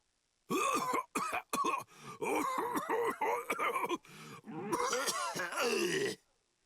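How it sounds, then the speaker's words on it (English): A person coughs and groans in repeated harsh bursts, close and loud, with strained gasps between fits, in the video game Bleach: Rebirth of Souls. "Hey, How long you gonna cough?"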